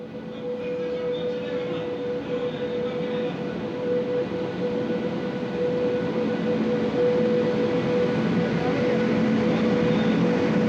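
A train carrying about 1200 workers from Sabarmati, Gujarat, arrives at Kanpur station, a continuous rumbling rail roar with a steady tonal hum that grows slightly louder, with no talk.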